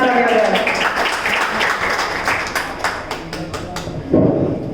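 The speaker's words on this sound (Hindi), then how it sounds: "जोरदार तालियां बजाएं" Hall audience at a talk clapping loudly and steadily in a dense burst that thins slightly, then a short voiced shout rises near the end.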